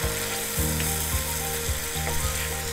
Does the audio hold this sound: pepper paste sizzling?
yes